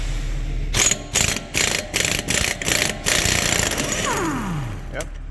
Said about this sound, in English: let's take our axle nut off